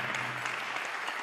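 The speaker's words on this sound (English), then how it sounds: "Big round of applause for our dancers." Audience applause for a dance troupe at a live show, a steady dense wash of many hands clapping throughout, fairly loud and continuous, with faint voices mixed in underneath.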